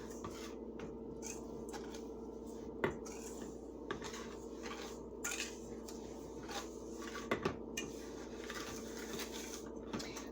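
Pecans being stirred with sugar in a bowl, a steady run of scraping and clinking utensil-on-dish sounds with scattered sharper taps over a constant low background hum, no voices.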